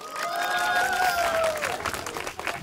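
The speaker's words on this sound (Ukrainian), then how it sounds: "Ваші оплески Борису." A crowd at an outdoor karaoke show on a public square applauds and cheers loudly and steadily, with shouts and whistles over a dense wash of clapping.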